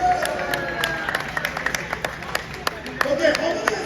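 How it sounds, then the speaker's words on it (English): A small stand-up comedy crowd claps in brief, scattered applause, the individual claps loud and near with some voices and cheering mixed in over a low room hum. "round of applause for Gujaratis."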